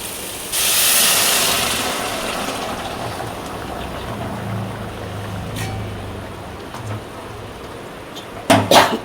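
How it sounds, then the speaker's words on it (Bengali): Water boils and steams in a cooking pot on a home kitchen stove, making a continuous close hiss with a soft bubbling rumble beneath it and a few clatters near the end, with no talking. "এখানে জল ফুটছে"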